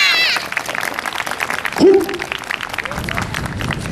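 Applause from a crowd at the Kawatana Buryu dance festival in Japan, a steady patter of many hands clapping, with a few voices mixed in underneath.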